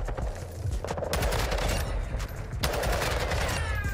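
Rapid automatic gunfire in Call of Duty Modern Warfare II ranked play, dense sustained bursts of shots filling the whole stretch, loud and continuous with a brief break midway.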